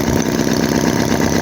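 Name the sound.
vintage Chinese HOLT H75 four-cylinder engine running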